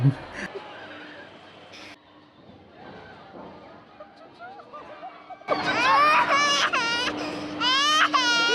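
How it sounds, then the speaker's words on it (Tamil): A young child cries loudly in fear on a frightening fairground ride, bursts of rising, wavering wails in the latter half, close and over crowd noise and talk from people nearby. "பாப்பா பயந்து அழுத கிளிப் ஒன்று போடுறேன் பாருங்களேன்"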